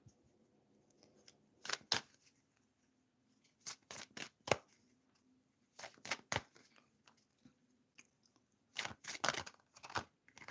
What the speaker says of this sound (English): So let's shuffle some cards